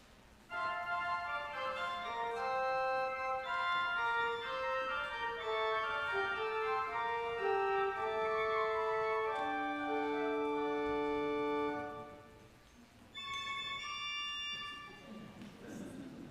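A bright, high-pitched two-foot pipe organ stop plays a series of sustained notes in a running melodic line, with a brief pause before a final held chord.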